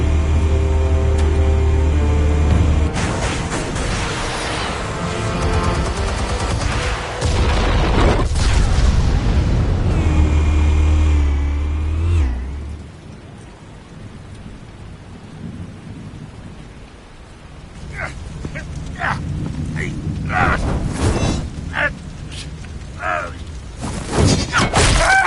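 Explosives detonate in the Telltale Batman video game, with loud rumbling booms and crashing debris that fade into a quieter stretch before scattered sharp cracks and a renewed roar.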